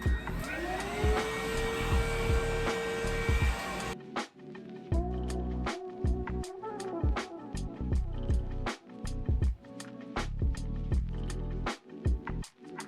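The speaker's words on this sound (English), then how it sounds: "Handy dandy vacuum" A handheld vacuum cleaner whines loudly for a few seconds, then shuts off, followed by a series of sharp clicks and rustling handling noises.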